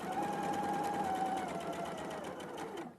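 A sewing machine stitches steadily at close range, a continuous buzzing whir with a faint tonal whine, running for a few seconds before stopping at a pivot point on the fabric.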